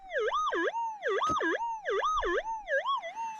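Metal detector warbling in a repeating rising-and-falling tone over a possible shallow gold nugget in scraped ground, four even swells close to the ear with a faint thud or two of digging underneath.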